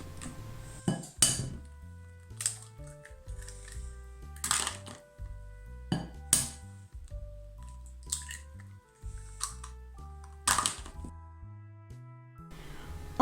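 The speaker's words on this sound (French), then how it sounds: "Dans un bol, je casse les œufs." Eggs cracked into a bowl while preparing a spinach and mushroom quiche filling: several sharp taps and clinks of shell against the bowl rim, with soft wet squishes between, spaced out and close by, no talking.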